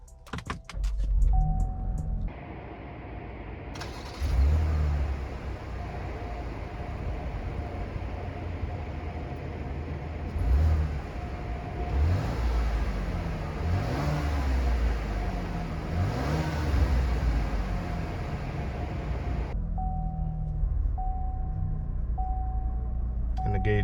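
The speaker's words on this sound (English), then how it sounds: "I'm gonna give you a quick startup of the vehicle so I could turn the AC on." A 2021 Chevy Blazer 3LT starting up, its engine catching with a brief surge and settling into a steady low idle, with the air-conditioning fan whooshing and some interior clicks and chimes; no speech.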